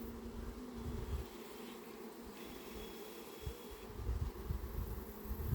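Italian honey bees hum at an open hive in a faint, steady drone that stays low throughout, with a few slightly louder swells of buzzing.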